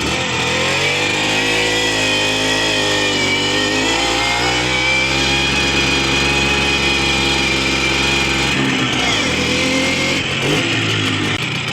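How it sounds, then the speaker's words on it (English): A cold, smoky Russian 125cc motorcycle engine with a clutch that feels off pulls away uphill after being shifted into gear. It drones loudly and continuously with a buzzing, rising pitch, then briefly dips and recovers near the end, with no talk. "Oh, that clutch don't feel right. Well, it went into gear."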